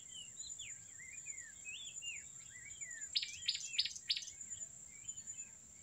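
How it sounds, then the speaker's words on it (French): Small birds chirp and whistle in a steady, overlapping chorus at moderate distance, with a brief run of sharper, louder calls midway and no voices. "Écoutez le chant des oiseaux."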